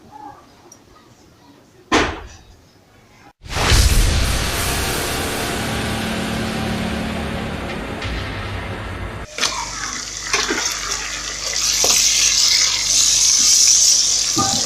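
Onion cooking in a pot for a mixed-vegetable dish, a sharp clatter followed by a loud, dense sizzle that holds steady and then turns brighter and hissier, heard close up.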